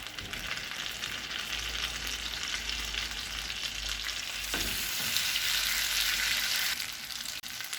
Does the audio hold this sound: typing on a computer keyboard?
no